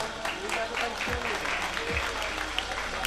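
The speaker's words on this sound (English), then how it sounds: "Guys, please clap." Crowd clapping at an AIEM college cultural fest award presentation forms a steady wash of applause, with faint voices and low room noise underneath.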